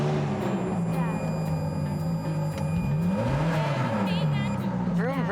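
A sports car engine with push-button start revs repeatedly, its pitch rising and falling in several swells over a steady running drone, close and fairly loud with no talking.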